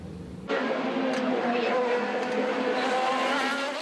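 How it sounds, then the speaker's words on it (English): Race cars reaching about 225 mph roar past on a racetrack laid out along Toronto's Lakeshore, a loud, sustained buzzing engine whine that cuts in abruptly and holds steady for several seconds. "These cars are loud and they are fast, with an average top speed of 225 miles per hour."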